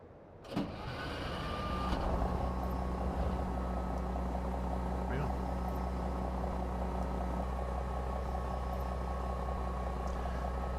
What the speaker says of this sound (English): The truck sounds like when you start it up.